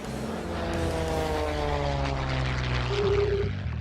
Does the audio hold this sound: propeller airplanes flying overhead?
yes